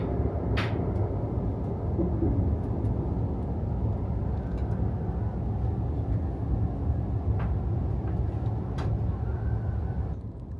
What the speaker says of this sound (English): The train travels through a bit of underground tunnel